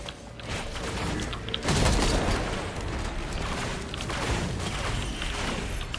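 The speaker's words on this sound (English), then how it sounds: "Fireworks save us." Firework item explosions from Risk of Rain 2, a steady barrage of popping, booming blasts layered over continuous game noise, with a heavier cluster of bursts partway through and scattered cracks after.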